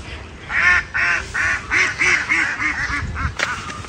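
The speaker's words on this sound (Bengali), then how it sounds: "হাঁসগুলো করে ডাকাডাকি করছে, দেখুন" A flock of ducks at a rural home quacks and calls in a busy, overlapping chorus of repeated nasal honks, close and fairly loud throughout.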